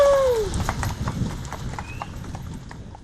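Hooves of a Lipizzaner horse clip-clop in a steady, even walking rhythm, loud and close, with a brief whinny-like cry at the start and a faint murmur of voices behind.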